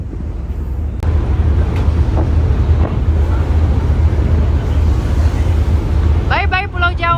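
Strong wind buffets the outdoor deck of a Merak–Bakauheni ferry crossing, a steady loud low roar with engine rumble beneath, a sharp knock early on and a brief bird-like chirping near the end.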